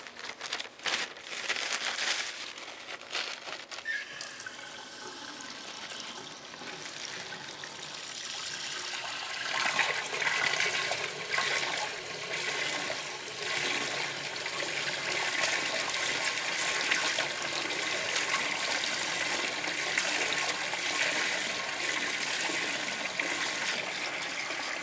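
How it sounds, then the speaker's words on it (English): Hands are washed under a running tap during a nursing assisting competition: a steady rush of water, splashing and rubbing for about 25 seconds, getting slightly louder partway through, with no talk. "Okay, I'm gonna wash my hands."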